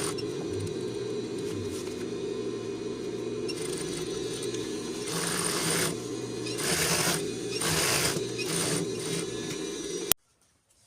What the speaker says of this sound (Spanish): Ahora pasaré una costura a medio centímetro por los 4 lados.